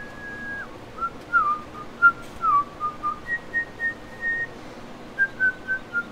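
In Farming Simulator 2017, someone whistles a short tune of sustained and pitch-sliding notes, clear and fairly loud with no talk over it.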